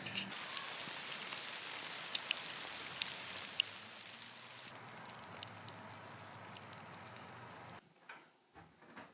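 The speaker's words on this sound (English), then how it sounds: "It just started hailing." Hail patters steadily on surfaces outdoors at a chicken coop building site, a dense even hiss of small impacts that cuts off near the end, leaving faint handling sounds.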